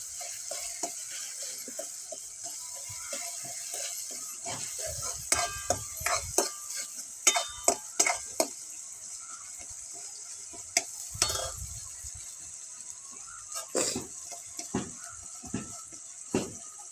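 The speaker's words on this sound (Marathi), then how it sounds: "जरा थोडी परतू देते. परतून चांगली जरा होते का." Tomatoes sautéed in a pan on a wood-fired stove: a steady soft sizzle under irregular bursts of spatula scraping and clinking against the pan, moderately close, with no voices.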